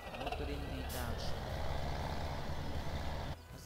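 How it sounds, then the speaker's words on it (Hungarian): A truck engine in Farming Simulator 17 runs with a loud, steady low rumble throughout, then cuts off abruptly just before the end. "Motorindítás."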